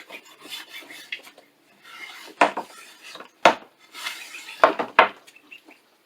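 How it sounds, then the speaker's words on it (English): Steel wool scrubs across a wooden table top being upcycled, giving a series of close, gritty rasping strokes with short pauses and a few sharper scrapes. "Maybe even a little of this steel wool. It kind of picks it up, also cleans it off, the wood."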